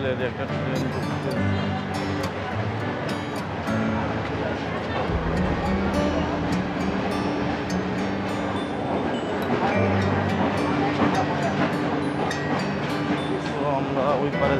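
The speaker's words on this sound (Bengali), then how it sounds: "একটা ট্রেন ঢুকছে।" The Nilsagar Express rolling into a crowded station, a loud continuous rumble of wheels and carriages with clanking over the rails, accompanied by a constant murmur of people talking nearby.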